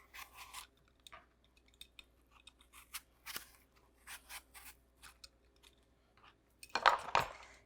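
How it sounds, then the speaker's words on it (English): An apple is peeled by hand, producing soft, close scraping and rubbing strokes in short bursts against a quiet background, with a louder cluster of scrapes at the end. "Get most of the peel off the apple"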